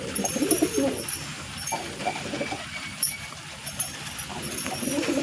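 Domestic pigeons, a breeding pair perched up high at a home loft, coo in soft repeated throaty rolls, fairly close, with faint background rustle and a few sharper knocks between the calls.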